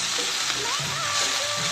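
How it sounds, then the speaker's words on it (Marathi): Chivli leafy greens drop into a hot pan already holding chilli paste and garlic, setting off a steady, close frying sizzle with stirring scrapes, no talking. "आता यामध्ये भाजी घालते."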